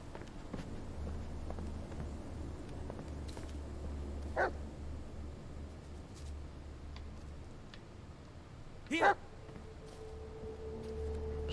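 Dog in the video game Blair Witch giving two short barks, one midway and a louder one near the end, over a low ambient hum and quiet rustling.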